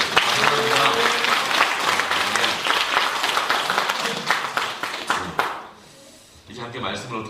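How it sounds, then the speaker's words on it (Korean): A church congregation applauds together during a Sunday service, a dense wash of steady clapping that holds for about five seconds, then breaks off into a short lull before some scattered claps and a voice return. "제가 다시 한번 하나님께 큰 영광의 박수 올려드리겠습니다"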